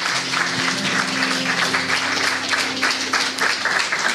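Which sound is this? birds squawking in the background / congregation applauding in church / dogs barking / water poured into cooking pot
congregation applauding in church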